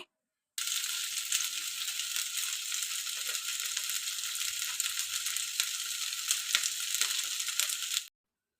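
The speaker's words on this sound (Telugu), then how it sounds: "మనం ఫ్లేమ్ని లో ఫ్లేమ్లోనే ఉంచి ఇలా మనము స్లోగా ఫ్రై చేసుకోవాలి" Chicken pieces frying slowly in a pan over a low flame make a dense, continuous crackling sizzle with small pops, steady and close throughout.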